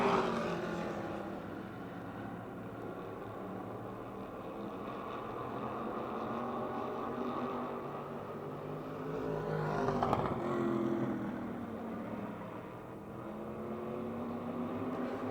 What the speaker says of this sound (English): White flag signals final lap for Bobby Shipp.